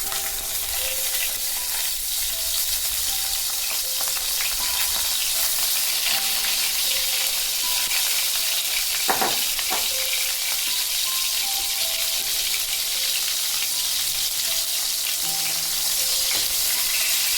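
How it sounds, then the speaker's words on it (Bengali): Eggplant pieces fry in hot oil, a loud, even, crackling sizzle with a brief sharper burst near the middle, heard alone without speech. "বেগুনগুলো হালকা করে ভেজে নেবে, বেশি কড়া করে ভাজার দরকার নেই।"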